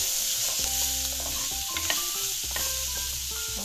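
Onion frying in a pan on lowered heat for an aloo gobi sabzi, a dense continuous sizzle with a low hum beneath and a few stirring knocks, close and steady throughout, no voices.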